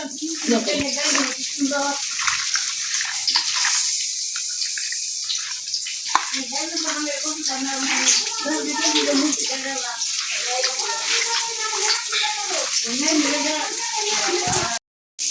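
Chicken meat being washed in a bowl of water, with continuous close splashing and sloshing throughout while a person talks over it.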